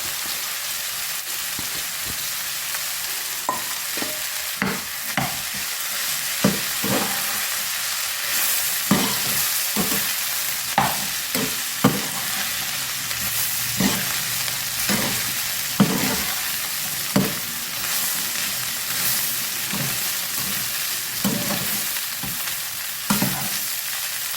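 Leftover idli upma sautéing in a pan, with a loud continuous sizzle and frequent sharp scraping strokes of the spatula at an irregular pace; no one speaks.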